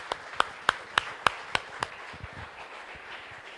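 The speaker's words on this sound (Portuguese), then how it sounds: "Palmas mais uma vez ao Senhor." A church congregation at a worship service claps together in a slow, evenly spaced rhythm of about seven sharp unison claps, then the clapping loosens into fainter scattered hand claps.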